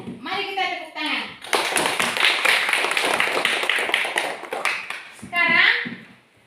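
A classroom of children claps together in a burst of dense, rhythmic hand clapping lasting several seconds, with a teacher's voice speaking before and after it.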